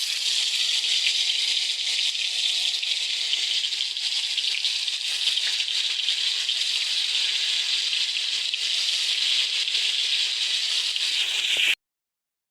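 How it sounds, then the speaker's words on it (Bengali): Turmeric-coated paneer pieces fry in a kadai with a loud, steady, even sizzle. It holds for about twelve seconds, then stops abruptly. No one speaks. "এখন আমি এক এক করে দিয়ে দিচ্ছি পনিরগুলো কড়াইতে।"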